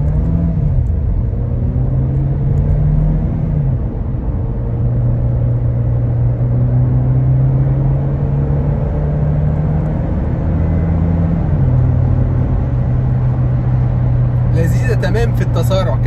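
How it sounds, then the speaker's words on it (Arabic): A Seat Arona in sport mode accelerates from inside the cabin with a low engine drone, its pitch rising and then dropping at each gear change, while someone talks over it throughout. "نحطها في سبورت ونجرب كده تسارع"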